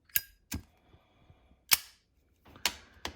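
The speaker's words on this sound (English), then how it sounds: "here's your traditional Zippo with regular insert" Sharp metallic clicks and snaps, a Zippo lighter with a regular insert flicked open then struck shut, repeated in two close pairs with quiet gaps between.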